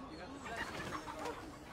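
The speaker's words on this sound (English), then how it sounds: "It's a bird." A bird calls in a fantasy TV drama scene, a few short clucking, fowl-like notes, faint and somewhat distant against a steady background.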